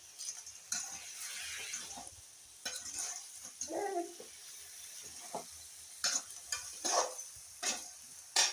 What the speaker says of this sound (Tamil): நண்டை அள்ளி போட்டுட்டு நல்லா சுருள வளர்க்கணும்.